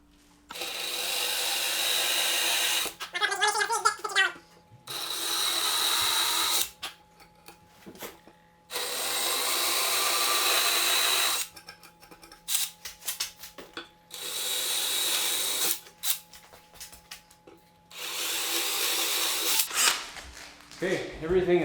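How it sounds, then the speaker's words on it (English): A power drill bores out wood for a bow hanger in repeated loud, whirring bursts of several seconds each, separated by brief pauses and a steady faint background hum. "everything is cut, or sorry, not cut, drilled out."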